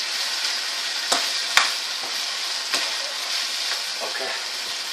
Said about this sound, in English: we're gonna give it another quick stir and then we're gonna cover it with the lid